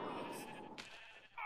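Sheep bleating in the video game Cold War, a short nasal cry or two standing alone, fairly faint, with a second call near the end.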